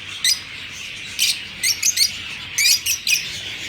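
Small parakeets chirp in quick bright bursts, several short calls clustered together, nearby and fairly loud over a faint background hiss.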